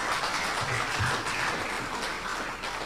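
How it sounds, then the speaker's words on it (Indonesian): Applause from an audience at a civil society event, a dense, steady clatter of clapping that fills the whole moment and holds at an even level without pause. "Tepuk tangan."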